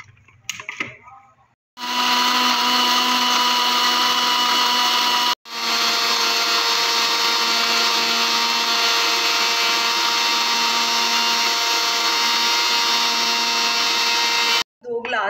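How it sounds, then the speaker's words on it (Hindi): A blender whirs loudly and steadily as it blends cold coffee with ice cubes and sugar, in two long runs separated by a brief pause, with a short stop at the end. "कवर करके जो है वो ब्लेंड करूँगी"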